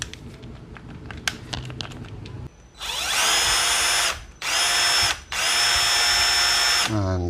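A repaired shake drill (hammer drill) with a fixed wobbly drill head runs loud and close in three bursts, switched between speed settings, with short pauses between runs, after a few seconds of light handling clatter.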